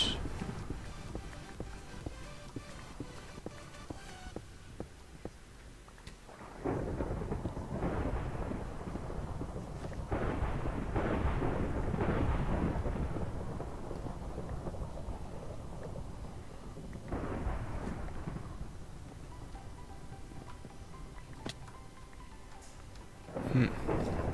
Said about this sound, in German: Der Donner ist viel zu laut.